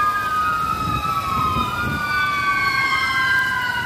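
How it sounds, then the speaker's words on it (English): An ambulance siren wails past with rising and falling tones, fairly loud over a rumble of road traffic. "all the ambulances come by"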